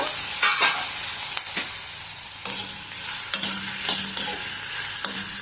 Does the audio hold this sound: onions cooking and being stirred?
yes